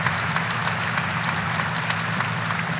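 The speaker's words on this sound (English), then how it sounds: "And a round of applause from the Virginia crowd as well." Steady applause from a basketball arena crowd at Virginia during a women's college game as an injured player walks off, a dense, even wash of clapping from many hands throughout.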